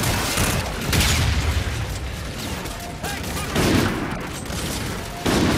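Dense gunfire in Call of Duty: Infinite Warfare, loud overlapping shots and booming bursts in rapid succession, continuous and chaotic throughout.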